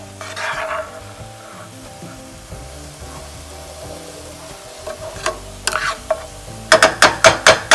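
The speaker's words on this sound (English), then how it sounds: "Let those cook on a little saute there." Vegetables for vegan crab cakes sauté in a pan with a soft, low sizzle, then a run of close, rhythmic clicking and scraping from stirring grows louder toward the end, with no talking.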